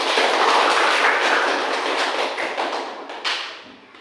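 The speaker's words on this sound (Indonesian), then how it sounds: "tepuk tangan buat kita semua" A classroom of students claps together, a dense loud burst of hands that thins out and fades near the end.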